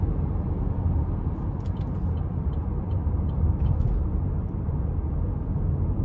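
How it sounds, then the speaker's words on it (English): A 2020 Chevy Blazer with a naturally aspirated 2.5-liter four-cylinder accelerates, giving a steady low engine and road drone heard from inside the cabin, with no talk. "Decent acceleration for a 4-cylinder in a vehicle this heavy."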